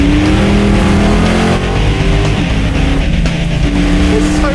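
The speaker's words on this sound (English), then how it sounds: "he doesn't know anything about driving a 1970 Challenger" A 1970 Dodge Challenger runs hard on a dusty track, its engine roaring loud and close with a steady rumble and revving surges throughout.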